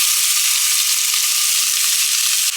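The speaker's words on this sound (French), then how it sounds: "Je vais venir faire chauffer mes oignons et mes os." Onions and bones sizzle in a saucepan of hot olive oil, a loud, steady, close hiss of frying that carries on without a break and with no voices.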